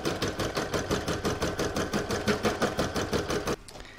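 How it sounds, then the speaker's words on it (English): An embroidery sewing machine stitches down cutaway stabilizer with a fast, even mechanical chatter of repeated stitch strokes, loud and close, stopping abruptly just before the end. "Pop it in my machine and stitch it down."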